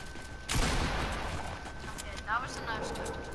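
A single sniper rifle shot fired without the scope in a first-person shooter game: one sharp, loud report that trails off into a rumbling tail, with a brief second blip shortly after and a player voice nearby.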